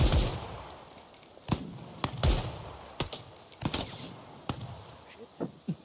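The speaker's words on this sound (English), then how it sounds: "You are under fire." Gunfire in the tactical shooter Ground Branch, heard as bursts of sharp reports and single shots spread irregularly through the stretch, close and fairly loud.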